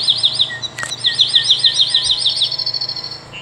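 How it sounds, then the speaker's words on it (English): A dark-eyed junco call played from a Wild Republic Audubon plush toy bird: a rapid run of bright, high chirps in a steady trill, with a sharp click near the start, close and clear. "dark-eyed junco"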